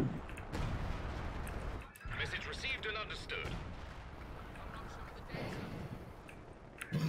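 Artillery fire in the video game Company of Heroes 2: repeated heavy booming blasts and rumbling explosions, fairly loud and dense, with a short lull near the middle.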